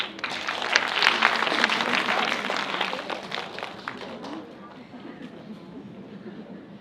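An audience at an elementary school English presentation breaks into a dense round of applause that swells, then thins and fades over several seconds, with a voice faintly present beneath it.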